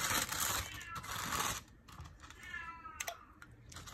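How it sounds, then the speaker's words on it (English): A cat meows loudly in the background of a kitchen, drawn-out yowls coming and going amid close clattering and tapping noises, with no talk. "you can hear my cat yelling in the background"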